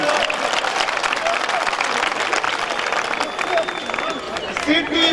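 Audience applause at a Hindi poetry recital, a broad, continuous crowd clapping that holds steady throughout, with voices and whistles mixed into the din.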